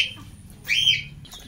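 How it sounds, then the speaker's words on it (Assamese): Birds at a hill farm give a couple of short, bright calls, one at the start and a clearer one midway, over quiet low background noise. "চৰাই চিৰিকটিয়ে ভৰ্তি"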